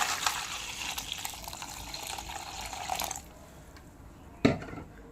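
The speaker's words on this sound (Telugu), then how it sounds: "ఇప్పుడు దీంట్లో వాటర్ పోద్దాం కొన్ని" Water pours from a container into a vessel holding ice cubes for soaking tamarind, a splashing, trickling stream for about three seconds, then quiet with a single sharp clink near the end.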